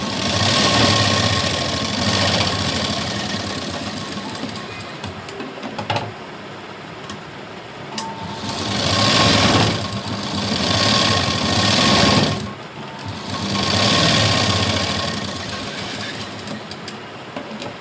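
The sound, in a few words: sewing machine doing double stitching on a blouse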